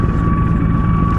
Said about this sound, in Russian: вертолет летит прямо на меня